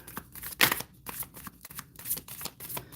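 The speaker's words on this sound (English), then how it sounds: "You do a quick shuffle for Indy." Quick riffling and slapping of tarot cards being shuffled, a few short bursts close by with soft pauses between.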